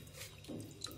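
A hand swirls vegetables in a bowl of lukewarm salt water, giving soft, close sloshing and light splashing with a faint drip near the end.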